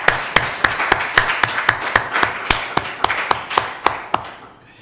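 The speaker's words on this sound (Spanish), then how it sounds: "vamos a darle un buen aplauso a María Fernanda porque lo que está haciendo realmente es épico" An audience at a plenary session at the Complutense University of Madrid claps, sharp, evenly spaced hand claps ringing out in a steady rhythm before tapering off at the end.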